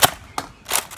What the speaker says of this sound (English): Oops, slam fire.